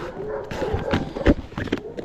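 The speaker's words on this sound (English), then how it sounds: "These dogs are losing their minds." Several dogs near a clear river where someone is musky fly fishing let out a rapid, excited run of barks and yips that comes in irregular bursts, fairly close and loud.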